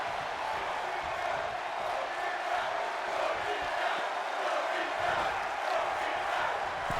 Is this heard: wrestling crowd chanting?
yes